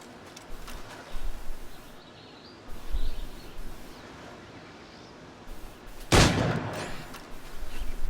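Gunfire in Assassin's Creed IV sounds as scattered shots, with one loud, sharp crack near the six-second mark and softer pops before it, over a quiet outdoor background with faint birds.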